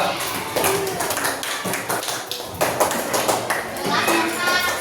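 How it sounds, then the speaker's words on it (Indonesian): Students in a classroom clap for a group, uneven bursts of clapping mixed with taps and lively children's chatter throughout. "tepuk tangan untuk kelompok 2"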